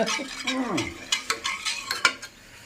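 A ladle stirs thick rice flour porridge in a cooking pot, giving soft sloshing scrapes and a run of quick, close taps against the pot.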